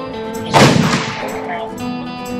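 A single loud gunshot from a Remington Model 700 rifle in .308 Winchester cracks sharply and echoes away over a steady background hum.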